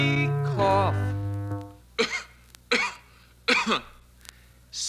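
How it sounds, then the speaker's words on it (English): A short sung or hummed tone gives way to three separate raspy coughs spaced about a second apart, close and fairly loud. "Hear me cough."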